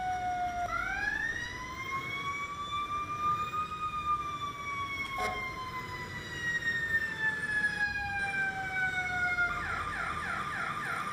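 An emergency vehicle siren in the video game EmergeNYC wails with a long rising and falling tone, then switches to a fast warbling pattern near the end; steady and clear with no talk.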